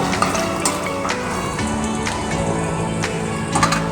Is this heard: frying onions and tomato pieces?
yes